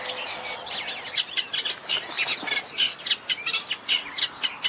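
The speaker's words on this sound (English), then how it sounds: "This bird emits a monotonous and low-pitched sound, repeating 2 to 4 notes in bursts, sometimes mimicking other bird species." A Great Reed Warbler sings from a tall reed bed wetland, a run of harsh, repeated chirping notes in quick bursts, fairly close and clear with no voices present.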